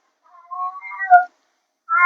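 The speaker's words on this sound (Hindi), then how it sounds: "वो मेरी नेबर की बिल्ली है, रोती है" A neighbour's cat meowing: a drawn-out, wavering, whiny meow, followed by a brief silence and the start of a second cry, clear and fairly close, with no talk over it.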